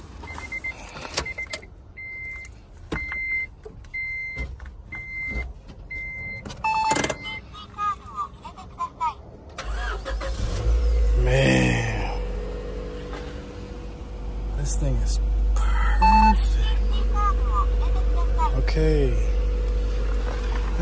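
A 1996 Honda Integra Type R gives a series of dashboard warning chimes before its engine cranks and catches, then idles with a low rumble and is revved in rising bursts, with a voice talking over it.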